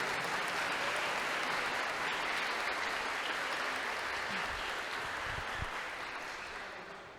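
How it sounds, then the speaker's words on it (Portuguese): A church congregation breaks into sustained applause, thick continuous clapping from many hands filling the room, loud and even before tapering off slightly at the end, with no talk over it. "Uma salva de palmas para o Diegão."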